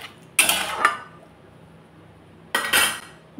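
A metal lid clanks onto a cooking pot during home cooking of a mung dal chapti and ash gourd shukto, with two bright metallic clatters about two seconds apart, close and loud over a quiet kitchen.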